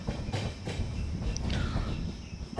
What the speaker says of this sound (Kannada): ನಮ್ಮ ಟ್ರೈನ್ ಈಗ ಪಾಂಡವಪುರ ರೈಲ್ವೆ ಸ್ಟೇಷನ್ಗೆ ಎಂಟ್ರಿ ಆಗ್ತಿದೆ.